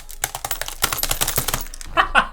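Keys with ceramic keycaps punched hard and bottoming out, a quick run of sharp, close clacks in an uneven rhythm that ends in a few brighter, ringing hits.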